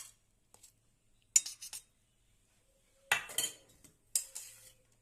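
A spoon serves fried eggplant onto a plate in a quiet room, making a few short bursts of metallic scraping and clinking separated by silence.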